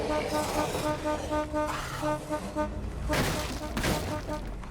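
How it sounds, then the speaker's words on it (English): Car horn in the zombie survival game State of Decay 2, a sustained tonal honk repeated twice with gaps, over game noise and a few thuds. "honk the horn and draw them away."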